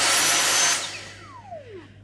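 A Dyson V6 Mattress cordless vacuum cleaner runs with a loud, bright whirring hiss for under a second, then its motor winds down with a falling whine as it switches off, alone and close.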